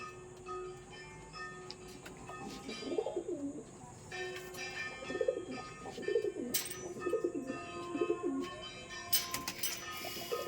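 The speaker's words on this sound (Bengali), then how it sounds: "এইগুলো আমার নর পায়রা।" Male pigeons in a loft at night give soft, throaty cooing calls, several rolling coos repeating every second or so at close range over a quiet background hum.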